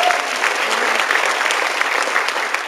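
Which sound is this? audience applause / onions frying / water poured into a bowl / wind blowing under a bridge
audience applause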